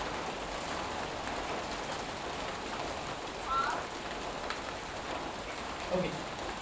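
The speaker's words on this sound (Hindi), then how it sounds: "बारिश बहुत ज्यादा हो रही है" Heavy rain falls steadily, a dense continuous hiss of drops on surfaces, loud and unbroken, with no voices present.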